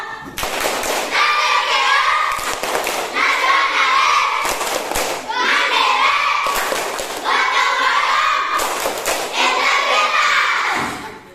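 Indonesian schoolchildren in a classroom perform the PPK clap chant, with sharp bursts of group hand clapping recurring in a steady rhythm between stretches of children's voices chanting together.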